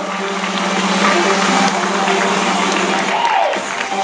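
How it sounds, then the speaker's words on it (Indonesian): An audience at an evening business event gives sustained applause, a broad, steady wash of clapping that sounds crowded and somewhat distant, with faint music or hum underneath and no clear speech. "beri tepuk tangan yang meriah dong."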